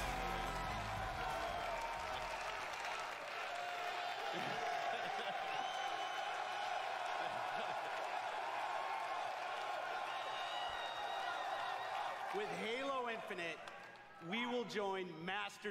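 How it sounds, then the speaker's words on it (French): A large audience at the E3 2018 press conference cheers and applauds in a steady, dense wash of crowd noise, with a voice cutting through near the end. "Ah, ça, c'est de la foule"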